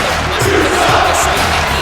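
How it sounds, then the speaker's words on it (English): A crowd roars in a continuous, loud ovation with shouts and whoops at a metaverse high-stakes event, the cheering sustained throughout. "Another astounding ovation, if you'd like to call it that, for one Joe Gentile."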